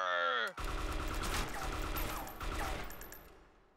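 A burst of gunfire rings out as a volley in the video game DayZ, several shots cracking together after a brief voice, then echoing and fading over a few seconds.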